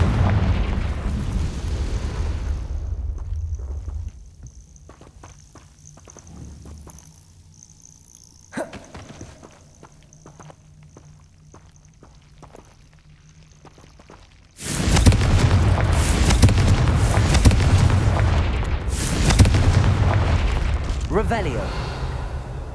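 Confringo spell explosions in Hogwarts Legacy, loud booming blasts with heavy rumble at the start and a sustained burst later, separated by a quieter stretch of game ambience.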